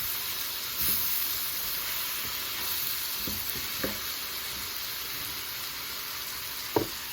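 Cabbage cooking down in a pan gives a steady, even sizzle close by, broken by a few soft clicks and scrapes of stirring.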